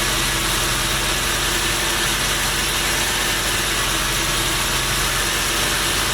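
A rebuilt truck V6 engine in a MerCruiser ski boat idles with a loud, steady, continuous rumble and drone that holds evenly throughout, with no talk over it.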